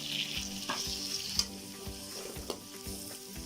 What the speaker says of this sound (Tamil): இப்போ வந்து தக்காளி நல்லா வதங்கணும்